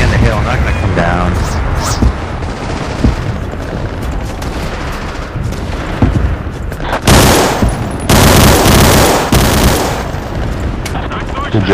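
Gunfire erupts in a multiplayer war video game, with bursts of rifle and machine-gun shots and booming blasts, loud and dense, some close and some distant, with players talking over the action.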